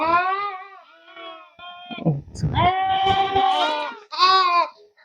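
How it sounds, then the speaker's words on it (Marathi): Young lambs on a farm bleat in a run of wavering, high-pitched calls, close and loud, with short pauses between cries. "इकडे आमची छोटी कोकऱ्यांची पिल्ले आहेत"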